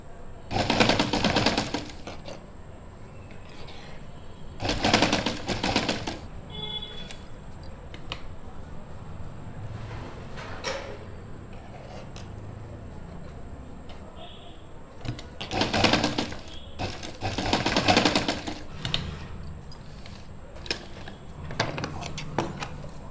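A sewing machine stitching a suit runs in short bursts of rapid whirring stitches, with long quieter gaps of faint handling between them, close by.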